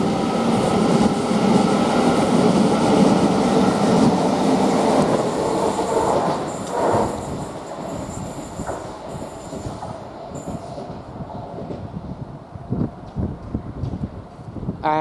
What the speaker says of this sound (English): Euston, now departing at 12:50. Now on the rear we've got 805013.